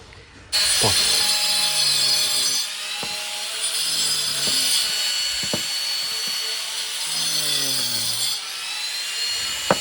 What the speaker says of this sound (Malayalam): നമുക്ക് ഇതിൽ സ്റ്റാർട്ട് ചെയ്ത് കട്ട് ചെയ്ത് നമുക്ക് അതിന് പറ്റുന്ന രീതിയിൽ ഒരു ഷേപ്പാക്കി എടുക്കാം